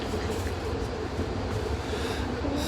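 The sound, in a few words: VTA light rail train ride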